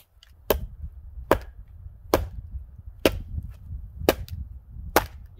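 Six sharp, evenly spaced cracks of an axe or maul striking and splitting firewood at a backcountry lean-to in the Adirondacks, each hit loud and close with a low outdoor rumble between them.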